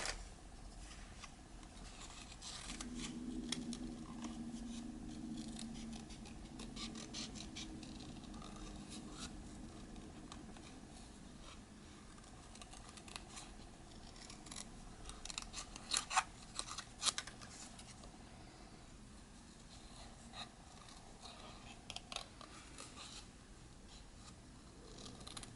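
Scissors snip through paper for a fall junk journal, quiet close cuts scattered through soft handling and rustling, with a brief cluster of sharper snips midway.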